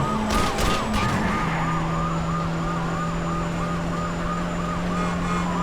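A wailing police car siren in the Wheelman video game sweeps up and down steadily and loudly over a constant engine drone and traffic noise, with no voices.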